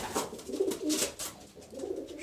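Several racing pigeons coo nearby in a loft in Istanbul, low, throaty murmurs that rise and fall in short phrases, with a rustle now and then.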